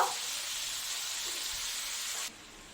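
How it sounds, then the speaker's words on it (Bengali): Pui stems and brinjal being stir-fried in a pan, with a steady bright sizzle and a faint stir or two, close by, that drops sharply near the end, no voices. "পুঁয়ের ডাটা আর হলো কাঁকড় দিয়ে দিয়েছি বেগুনটা তো ভেজেই রেখেছি একটু নেড়ে চেড়ে একটু ভেজে রাখবো"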